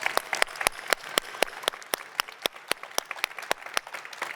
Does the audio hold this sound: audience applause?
yes